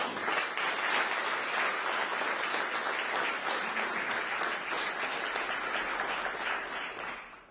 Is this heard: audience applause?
yes